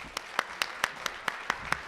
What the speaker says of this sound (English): A round of applause, a warm round of applause for Cynthia Soto.